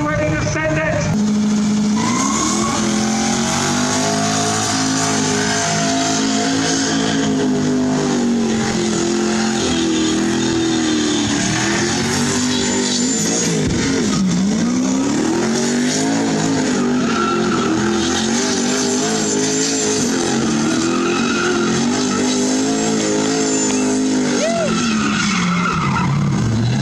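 Turbo LS Holden Commodore doing a burnout on a burnout pad, tyres screeching continuously under a loud, revving engine that rises and falls, with voices faintly over it.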